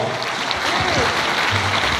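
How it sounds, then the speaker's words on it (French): Congregation clapping at a Pentecost church service, a dense steady wash of applause from the crowd with some voices and musical tones mixed in underneath. "Applaudissez fortement le roi."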